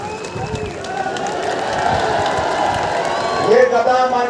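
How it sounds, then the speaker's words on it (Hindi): A large outdoor crowd at a rally welcoming Haryana chief minister Nayab Singh Saini in Hansi town applauds and cheers, a dense sustained wash of clapping and voices that swells slightly toward the end. "जोरदार तालियों से स्वागत करें"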